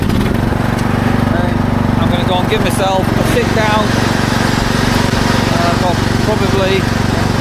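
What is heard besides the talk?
Husqvarna lawn mower running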